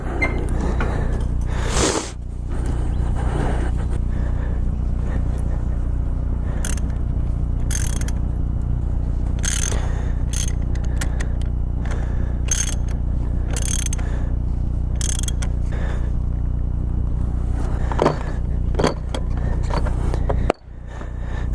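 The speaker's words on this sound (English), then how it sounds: "So I'm just gonna go tighten up my mirrors" Motorcycle mirrors being tightened by hand, a series of short mechanical clicks and ratcheting creaks scattered over a steady low hum, close and fairly loud, with one sharp knock near the end.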